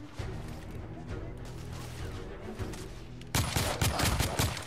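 Gunfire from the video game The Order 1886, a sustained volley of rapid shots under a steady rumble, then a louder burst of heavy, closely spaced bangs toward the end.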